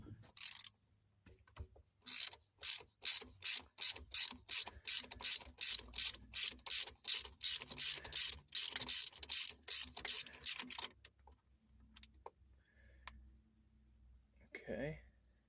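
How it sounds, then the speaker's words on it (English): A ratchet with a 5/8 spark plug socket works spark plugs loose on a Schuster Tropicana boat engine. It makes a long, brisk series of sharp, close clicks, then a few scattered clicks and a quiet voice near the end. "We're going to pull all these spark plugs out"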